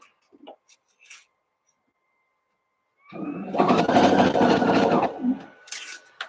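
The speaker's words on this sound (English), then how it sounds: "I just go with the 2 layers directly on the serger" A serger runs steadily through two layers of knit fabric for about two seconds, a loud, dense mechanical whir that starts abruptly and then stops, with faint handling noises before and after.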